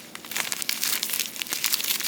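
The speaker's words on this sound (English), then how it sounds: "these drills come individually packed. I'm just gonna kind of shuffle through these really quick." Small plastic bags of diamond painting drills crinkle continuously as they are shuffled through by hand, a close, steady rustling with no talk over it.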